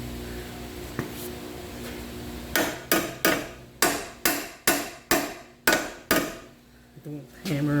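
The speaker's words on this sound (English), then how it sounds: "Don't hammer on the ball joint directly, just on the edge of the control arm" A hammer strikes the edge of a lower control arm to seat its ball joint into the steering knuckle of a 2015 Jeep Patriot 2.4. About eight loud, evenly spaced metallic blows ring close up after a quiet start.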